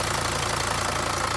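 A 3-ton Mercedes Sprinter 312D W903 with a 2.9 turbo diesel engine runs steadily, close by and loud, with a rough even rattle and no pauses.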